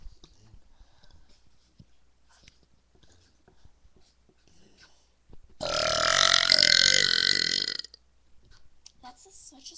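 A woman gives one long, drawn-out close burp lasting about two seconds, with quiet rustling and small mouth noises before and after it.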